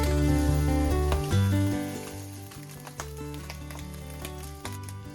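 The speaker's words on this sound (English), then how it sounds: "Now it's time to flip the spam and fry the other side." SPAM slices fry in a pan with a steady sizzle that runs the whole time, sitting under louder background music with sustained tones.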